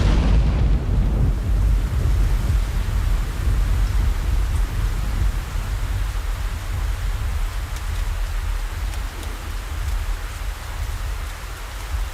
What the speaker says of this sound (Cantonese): 你做乜企喺度淋雨啊？